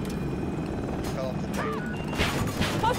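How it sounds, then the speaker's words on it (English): A KA-520 Super Hokum attack helicopter in Battlefield 2042 drones with steady rotor noise beneath gunfire cracks and impact thuds, while players talk over the action. "You jumped another chopper?"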